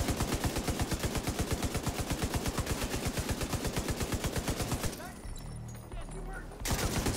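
Rapid, sustained light machine gun fire in The Division 2, a steady loud stream of shots that breaks off briefly near the end before resuming.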